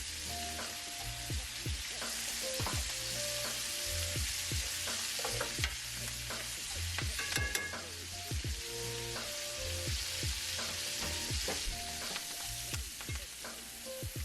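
Pork chops sizzling in a pan while being basted with melted butter: a dense, continuous crackle with frequent small pops and spoon taps, close up and steady, no voices.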